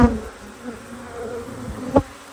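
Angry honeybees swarm inside a house wall during a removal, a dense, continuous buzz close to the microphone with a couple of brief louder bumps.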